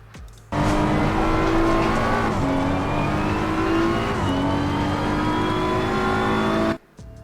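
A BMW M4 race car in Assetto Corsa Competizione at Oulton Park, its engine note loud and close, climbing steadily in pitch under hard acceleration with brief shift dips, then cutting off abruptly at the end.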